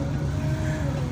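A car stuck in a traffic jam in Pindi, a steady low engine idle rumble with dense road noise that stays level and continuous throughout, no voices over it.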